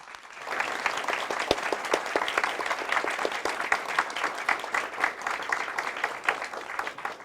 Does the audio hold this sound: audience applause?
yes